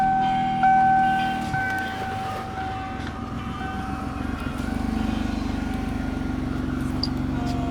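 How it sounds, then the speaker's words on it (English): A 1995 Ford Taurus SHO engine idling slightly rough, a steady low rumble with a faint uneven pulse under a high whine, loud and close, after a brief start of higher tones. "it does sound like it idles rough a little bit"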